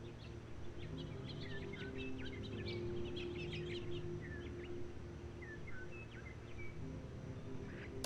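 Bird calls and chirps in a video game, many short twittering calls scattered over a steady low ambient bed, moderately faint and continuous with no talking.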